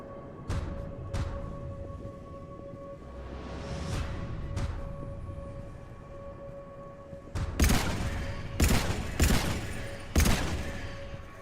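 Gunfire in Mass Effect 3 arrives as a few scattered shots early, then a cluster of loud, punchy bursts near the end over a steady low game hum and tone.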